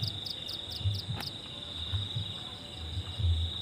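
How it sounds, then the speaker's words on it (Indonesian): Crickets chirping at night in a steady, loud, high trill with rhythmic pulses, alongside low croaking calls and no speech. "Alunannya merdu. Semerdu jangkrik"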